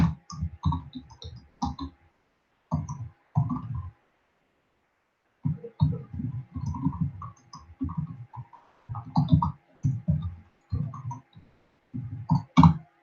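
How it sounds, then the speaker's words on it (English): Quick bursts of clicky keystrokes on a computer keyboard come in uneven runs with short pauses between them, close and fairly quiet, with no talking. "Typing too fast for my own good."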